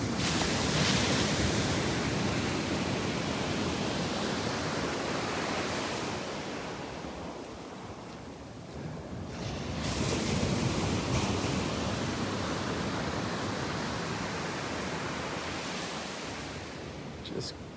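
Surf at Barefoot Beach Preserve rolls in as a broad continuous wash of breaking waves, swelling and easing once midway, steady and fairly loud with some wind across the microphone.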